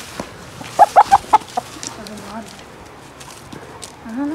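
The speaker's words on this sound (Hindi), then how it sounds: "ये रहा मुर्गा जी" An ailing Java rooster in a village yard lets out a quick run of four or five loud, clipped clucks. Quieter murmuring and background noise follow.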